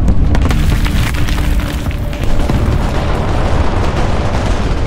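A large bomb detonating mid-air near Lancaster bombers in the combat game War Thunder, heard as a continuous loud, rumbling boom with heavy low-end roar throughout, no speech.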